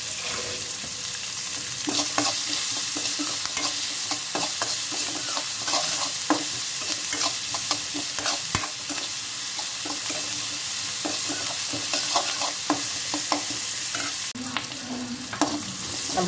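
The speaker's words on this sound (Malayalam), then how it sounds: "നമ്മുടെ സവാള വഴന്നു വന്നിട്ടുണ്ട്" Sliced onion sautéing in a pan for chutney, a close and steady sizzle broken by frequent spatula scrapes and stirring taps, with no speech.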